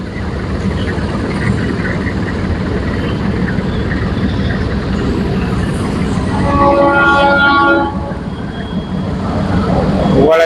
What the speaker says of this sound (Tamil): ட்ரெயின் வருது பார்ப்போம்.